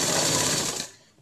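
Sewing machine stitching the pleats of a dhoti shalwar, a loud, dense mechanical whir running close and steady before slowing and stopping near the end.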